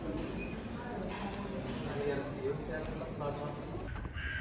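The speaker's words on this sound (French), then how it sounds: "Ok les corbeaux, c'est bon." Crows cawing outdoors in a city street during a Paris morning, several harsh calls scattered over steady background noise.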